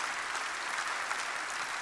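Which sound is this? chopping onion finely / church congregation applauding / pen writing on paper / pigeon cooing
church congregation applauding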